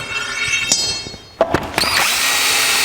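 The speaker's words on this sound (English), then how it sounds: "We'll start with a 1/4 inch drill." A power drill whirs steadily through steel tube with a 1/4 inch bit, with a few sharp clunks before the motor spins up into a continuous high whine near the end.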